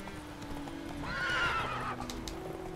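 A horse whinnies over the clip-clop of its hooves in The Witcher 3, the neigh rising loud in the middle over a soft, steady background of game sound.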